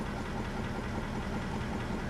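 Dump truck diesel engine idling during warm-up, a steady low rumble with an even knocking texture, continuous and fairly quiet with no voices.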